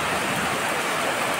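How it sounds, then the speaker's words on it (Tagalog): Steady, dense hiss of heavy rain falling in hot weather in Bacoor, Cavite, loud and uniform throughout with no voices. "tayo ay umuulan na, sobrang init."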